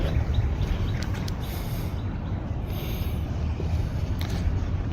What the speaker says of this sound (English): There's a lot of birds and wind out here